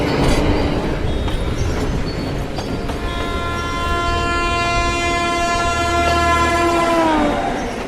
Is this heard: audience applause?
no